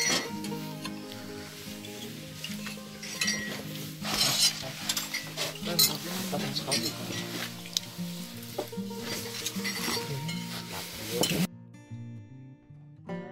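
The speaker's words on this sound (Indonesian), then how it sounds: "Mbok Yem lagi sibuk goreng telur" Eggs frying in a pan at a warung food stall high on Mount Lawu in the early morning, a busy, steady sizzle with utensils scraping and clinking against the pan throughout, then dropping away near the end.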